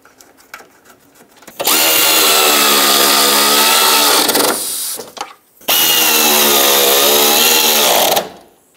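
A power tool drives the headlight bolts on a Chevrolet HHR in two loud, steady whirring bursts of several seconds each, separated by a short pause, with faint clicks before the first run.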